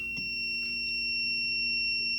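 A voltage tester, rated 70 to 1000 volts and held near a live switch on a 110 volt circuit, beeps continuously in a steady, high electronic tone with faint tapping and clicks underneath; nearby and moderately loud.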